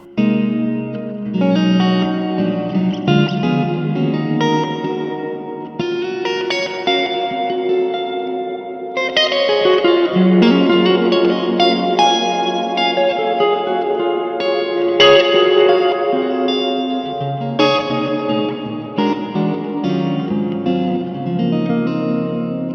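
Electric guitar played through a hall-type reverb effect pedal on a pedalboard, chords and single notes ringing out with long, washy decay, loud and close with no talk.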